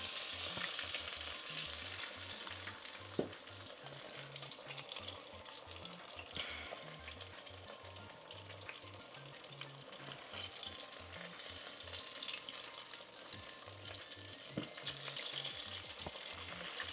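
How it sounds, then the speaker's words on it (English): Chicken pieces frying in a deep fryer, a steady broadband sizzle and crackle that holds for the whole stretch with small pops scattered through and no talking. "So I don't know if you can hear the nice little sizzle"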